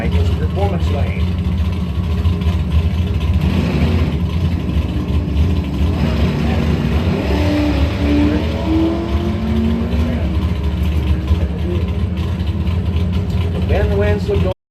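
An '85 Camaro drag racing down the lane at a strip, its engine roaring loud and steady over a track announcer's continuous commentary.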